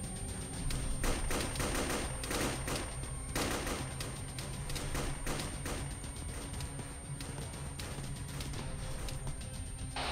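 Sustained enemy gunfire in Arma 3, dense overlapping bursts and single shots crackling continuously at moderate distance, with a steady high tone running underneath.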